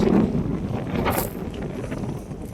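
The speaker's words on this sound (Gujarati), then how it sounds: "આમ તો વાવાઝોડા જેવો પવન છે એટલો પવન છે" Strong wind buffets the microphone, making a low, rumbling roar that swells and eases over a few seconds.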